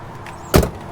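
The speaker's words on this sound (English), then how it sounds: "Pop the hood." A 1996 Ford F-250 XLT pickup with a 7.3L Powerstroke diesel has its hood popped open, a single short metallic clunk and thump close by, with quiet surroundings before and after.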